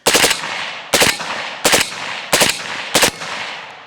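An AR-15 carbine with a standard carbine buffer and an Atrius FRS mil-spec trigger empties the rest of its magazine in five loud, sharp, rapid bursts spaced under a second apart, with brief echoing decay between them and no speech.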